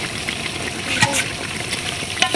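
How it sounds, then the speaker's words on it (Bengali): Vegetables for a vegetable khichuri being stirred in a cooking pot, with soft frying sizzle and a few scraping strokes across a short stretch. "এখন আমরা নেড়ে দিব"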